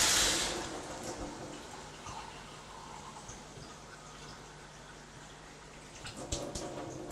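Water runs and splashes into a cooking pot for peas in a kitchen, a steady close pour with a louder rush at the start and a few clinks near the end.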